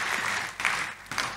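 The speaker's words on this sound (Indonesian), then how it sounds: "Tepuk tangan yang meriah buat Tuhan Yesus." A church congregation applauds during a sermon, giving steady, enthusiastic clapping that swells in waves, moderately loud and filling the room without voices over it.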